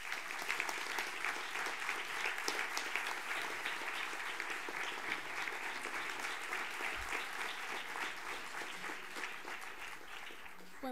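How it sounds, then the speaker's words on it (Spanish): Sustained applause from a gala audience greeting an award winner at a book-contest ceremony, steady dense clapping lasting the whole stretch at moderate distance, with a few voices faintly mixed in. "Un fuerte aplauso."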